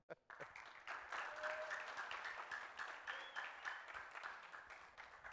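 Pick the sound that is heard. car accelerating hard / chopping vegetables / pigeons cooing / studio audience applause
studio audience applause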